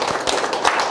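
A lecture audience claps at a talk on Donghak thought, a brief dense patter of many hands, fairly loud and close, with no voices over it.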